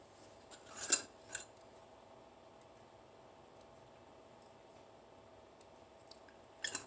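Scissors snip green onions in a quiet kitchen, with a sharp cut near the one-second mark and another a moment later, then near silence until two quick snips at the end.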